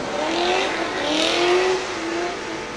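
A Nissan 200SX S14A drift car in British Drift Championship pro qualifying at Birmingham revs loudly and close by, its engine note rising and falling in several surges as tyres squeal faintly beneath.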